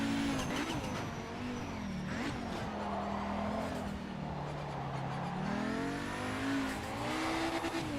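A race car in the Project Motor Racing video game holds a steady engine drone that rises and falls with the throttle, while tires squeal through corners, with no talking.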